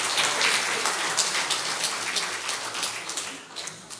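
Dense, steady applause from an audience at a students' graduation ceremony, a continuous crackling wash of many hands that stays loud and close before easing slightly near the end.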